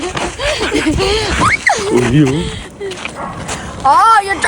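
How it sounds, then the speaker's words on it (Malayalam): A neighbour's dog barks and yips loudly and close by in Namibia, with people talking over and between the barks. "അത് അപ്പുറത്തെ വീട്ടിലെ പട്ടി"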